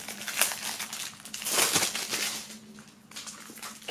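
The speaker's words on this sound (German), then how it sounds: "Bevor wir die Folie abmachen" Clear plastic shrink wrap crinkles and crackles as it is peeled off a boxed music album set, close and fairly quiet in irregular bursts, with no talking.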